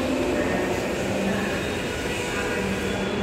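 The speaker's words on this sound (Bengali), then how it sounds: "মেট্রো রেলে আগমন।" Metro train at Kazipara metro rail station in Dhaka, a steady loud rumble of rolling rail cars filling the station throughout, with a faint murmur of voices underneath.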